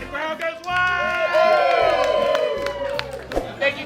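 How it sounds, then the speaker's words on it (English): A crowd at a Ripley's sword-swallowing stage performance cheers and whoops loudly, with claps and shouts rising in a dense, continuous swell that stays strong throughout. "the crowd goes wild!"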